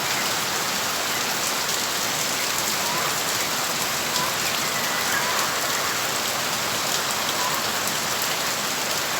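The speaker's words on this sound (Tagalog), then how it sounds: "bumuhos na naman yung ulan." Heavy rain pours steadily on an afternoon at a small chicken farm, a dense, loud, unbroken hiss of drops on surfaces with no pauses.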